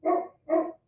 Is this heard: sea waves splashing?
no